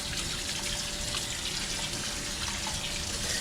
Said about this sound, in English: Just gotta rinse it off.